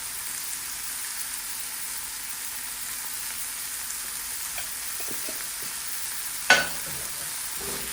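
Food sautéing in a pan with black pepper and a Creole spice blend, a soft, even sizzle running throughout, faint and steady, with one brief sharp clink near the end and no talking.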